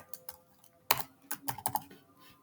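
Keys clacking on a computer keyboard while code is entered for a Google Earth Engine map, a few scattered taps and then a quicker close burst of keystrokes, no voices.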